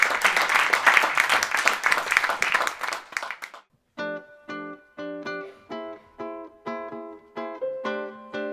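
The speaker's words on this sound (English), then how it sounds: "Let's give Bob a round of applause." An audience claps for Bob at an indie musician spotlight show, a dense burst of applause that fades after a few seconds, followed by bright, evenly spaced chimes or keyboard notes.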